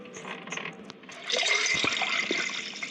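Water drains in the horror video game Metel: quiet trickles at first, then a sudden louder gurgling rush like a flush that carries on for a couple of seconds.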